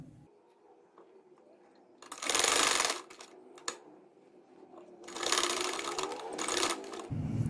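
A sewing machine stitches fabric for a butterfly-tie salwar hem design in two loud, close bursts, the second longer, with quiet pauses between runs.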